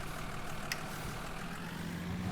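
A van's engine idles in Farming Simulator 19, a steady low rumble running close and even throughout with a faint tick partway, no voices.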